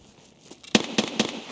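Three sharp gunshots from Escape From Tarkov, fired during a boss fight and spaced a quarter second apart after a quiet stretch, close and punchy with brief crackling tails.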